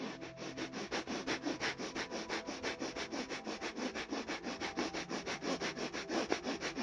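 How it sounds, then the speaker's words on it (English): Rapid, forceful Kapalbhati breaths pumped sharply through the nose during a pranayama breathing exercise, a fast even train of roughly four or more sniffing exhalations per second, close and steady for the whole stretch with no talking. "For these last few breaths, pump as fast as you can."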